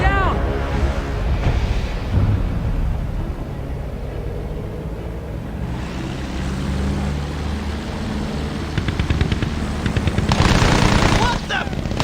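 Rapid machine-gun bursts and gunshots fire at a German plane in the video game Battlefield 1, loud and close, with an aircraft drone and shouting voices mixed in.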